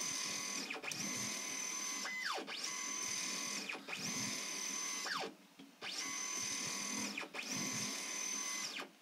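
A Mendel 3D printer's Y stage shuttles back and forth at about 80 mm/s, each pass a whining motor tone that rises and falls, repeating in a regular rhythm with brief pauses at each reversal.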